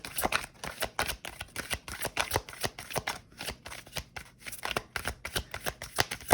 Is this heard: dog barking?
no